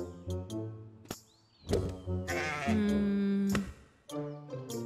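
Cartoon sheep bleats in the video game Lost in Play, several distinct wavering baa calls with gaps between, set among light game effects and a thunk.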